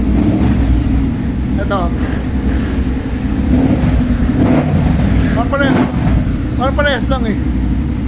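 A motor vehicle engine runs loud and close as the throttle is worked, a constant heavy drone that swells slightly in places, while people chat over it.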